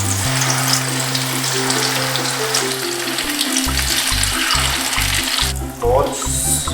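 Potato burger balls fry in a pan of hot oil with a steady, close hiss and sizzle, broken by a brief splash near the end, while a voice speaks quietly over it.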